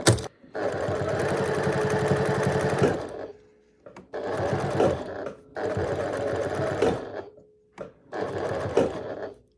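A sewing machine back-stitches over a seam joint on a square pot holder, running in four sustained bursts of rapid mechanical whirring separated by short pauses.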